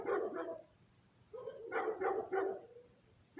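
An American Bully dog barks in two quick deep barks, then a short pause, then a run of three or four more, close by and fairly loud.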